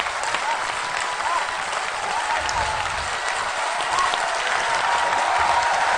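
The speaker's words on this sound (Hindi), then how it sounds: "बहुत सुंदर, खूब जोरदार तालियां।" An audience at a poetry recitation breaks into sustained applause, a dense, steady wash of clapping lasting several seconds with no talking over it.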